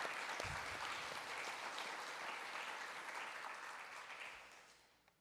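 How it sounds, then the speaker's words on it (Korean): A church congregation applauds together in a dense, sustained round of clapping that holds steady and then gradually fades away over a few seconds, heard from a moderate distance. "우리가 여러분들 앞에 결단의 박수를 한번 올려드리면 좋겠습니다"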